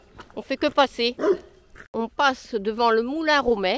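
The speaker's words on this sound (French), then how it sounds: "Et vous avez pu entendre le gros patou." A large patou guarding its sheep barks in loud, repeated bursts close by, the deep barks mixed with people talking as they walk past along a country lane near a mill.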